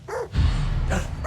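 A dog barks twice in quick succession, close and fairly loud, with a short yip-like bark followed by a deeper woof.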